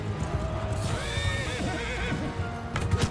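A horse in Mount and Blade Bannerlord lets out a loud, wavering neigh after being shot in battle, standing out over a busy mix of clip-clopping hooves and battlefield din.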